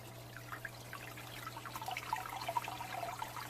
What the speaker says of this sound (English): So I'll just give you a little more insight on how fast this thing's actually flowing.